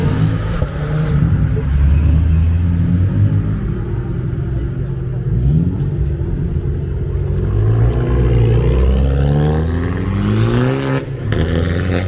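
A small right-hand-drive car with modified exhaust pipes revs at a Cars and Coffee meet in Nantes, a steady rumbling idle swelling into rising revs toward the end while people talk nearby.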